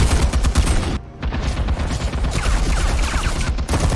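Gunfire from Batman: The Telltale Series, loud sustained bursts of automatic shooting with heavy booming impacts, broken by one short pause before the barrage resumes, with no talking.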